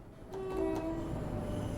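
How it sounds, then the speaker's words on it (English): In the Train Sim World game, a Class 710 Aventra train's steady horn blares over the low rumble of a passing train, sustained and moderately loud. "I have no idea if they honk in real life on this line"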